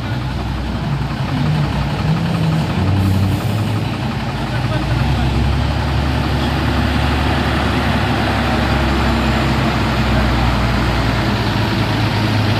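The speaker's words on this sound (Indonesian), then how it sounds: "Ya ini truk tangki yang akan menarik ya." A large tanker truck engine idles and rumbles steadily nearby, with a low, continuous drone and people talking faintly over it.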